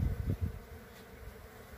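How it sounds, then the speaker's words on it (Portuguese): Bees loaded with pollen fly in to a hive, making a low buzzing hum with a few short louder passes near the start before it settles into a faint, steady drone. "vocês acabaram de ver minhas abelhas chegando no, na criação com muito pólen"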